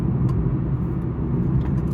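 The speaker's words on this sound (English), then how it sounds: "Y'all did notice that I passed a car" A Class C RV drives down the road while passing a car, giving a continuous close engine rumble and road whir with faint brief higher noises over it and no speech.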